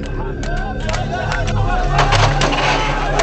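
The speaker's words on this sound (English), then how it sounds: "Iraqi civilians cheer as they throw rocks at the dead Americans in and around the" A loud crowd of Iraqi civilians cheers and shouts in a dense, agitated roar around a blazing vehicle, with overlapping voices and yells throughout.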